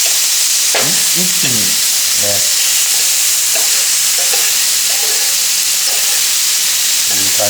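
A loud, steady high-heat sizzle of stir-frying with garlic sauce, broken by bursts of stirring and tossing in the pan, while someone talks briefly over it.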